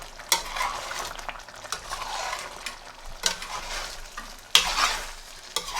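Chicken karahi sizzles in a karahi pan at a Lahore street food stall while a utensil stirs and scrapes it, with a few sharp clinks of metal against the pot.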